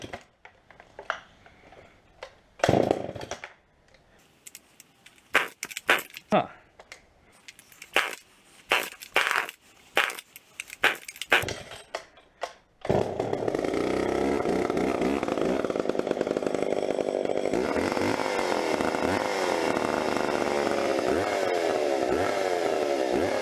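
A Pro Mac 700 chainsaw leaking oil and gas from its crankcase starts up after a series of pull-start clatters and runs loudly and continuously for about ten seconds, revving slightly near the end.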